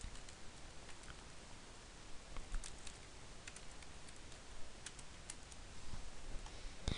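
Faint, irregular keyboard clicks of someone typing Daemon Tools into a computer search bar, scattered light taps over a steady background hiss, with no one speaking.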